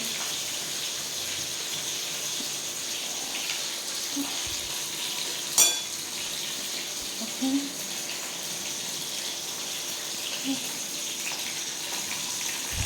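Fish frying in hot oil gives a soft, continuous sizzling hiss at moderate level, broken by a sharp spattering pop and a few brief bumps from handling the pan.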